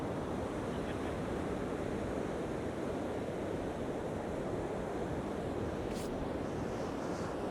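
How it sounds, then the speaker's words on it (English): Steady wind buffeting and breaking surf on an East Coast UK beach on the Holderness Coast, a constant loud roar with no pauses and a brief faint hiss near the end. "if this wind gets any worse"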